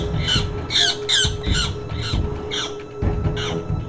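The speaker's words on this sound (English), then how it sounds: "Sparrowhawk takes on cuckoo in a vicious standoff." Harsh, repeated squawks from a sparrowhawk attacking a Jacobin cuckoo, a rapid series of loud, raspy calls in quick bursts, close and outdoors over a low background hum.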